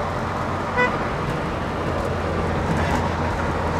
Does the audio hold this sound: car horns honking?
yes